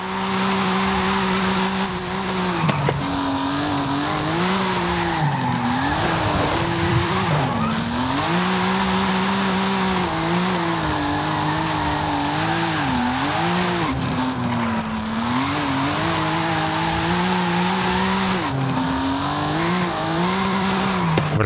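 A car drifting in a racing video game played on a Logitech Pro racing wheel, with a loud sustained engine drone and long wavering tire squeals rising and falling throughout.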